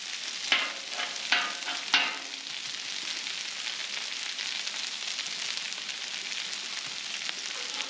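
Hashbrowns frying on a Blackstone griddle, with three sharp scraping stirs near the start over a constant close sizzle that carries on alone afterward.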